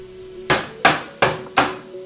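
Four sharp hammer strikes land at a steady, even pace during the retrim of a Land Rover Defender seat, each one loud and close with a quick ringing decay over a faint steady hum.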